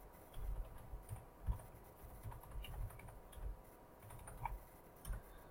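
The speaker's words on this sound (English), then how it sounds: "And then you'll type in your password." Quiet, irregular clicking of fingers typing a password on a computer keyboard, soft taps scattered across several seconds with no voices.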